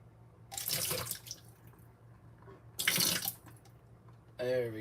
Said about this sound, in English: So we need a half a cup of water.